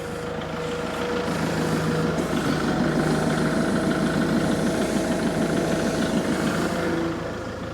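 Tractor raising a 3-point hitch ballast made from a 55-gallon drum, its engine running loud and steady with a knocking diesel throb that rises slightly mid-lift and eases near the end.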